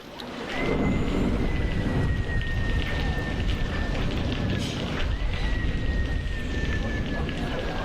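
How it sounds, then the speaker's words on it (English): Heavy rain pours down steadily in a dense, loud roar that fills the whole stretch, with a thin high tone drifting across it and no other sounds breaking through. "The rain is coming down so hard"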